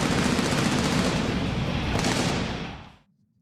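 Dense, continuous burst of rapid machine gun fire, loud and close, sustaining without a break for nearly three seconds before cutting off abruptly into quiet.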